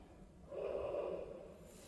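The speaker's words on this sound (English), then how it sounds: "Deep breath." A single deep breath taken during a seated chair yoga and qigong twist, a soft airy inhale swelling then slowly easing off, close and quiet with no talking.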